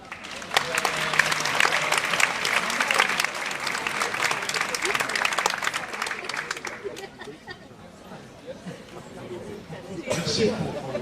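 An audience at an anti-FGM talk applauds a police major as he is welcomed; dense clapping fades after several seconds, leaving murmuring and chatter before a brief renewed patter.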